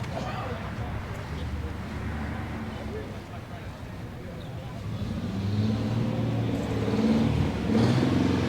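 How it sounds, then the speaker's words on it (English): Cars rolling into an outdoor Cars & Coffee show in Altadena, engines rumbling low and growing louder toward the end, with people talking over them. "Cars rolling in late."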